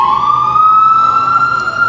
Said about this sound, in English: The police and the ambulance, they always make a lot of noise for nothing